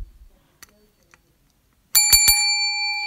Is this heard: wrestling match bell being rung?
yes